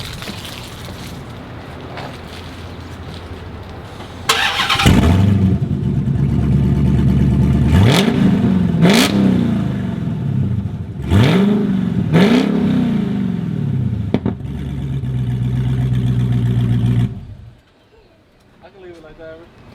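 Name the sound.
Dodge SRT Hellcat engine starting and revving, straight pipe exhaust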